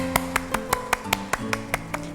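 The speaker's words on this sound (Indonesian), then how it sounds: "Simon Says, tepuk tangan." Hands clapping during a Simon Says game, eleven sharp, evenly spaced claps at a brisk steady rhythm, fairly close, with no talking.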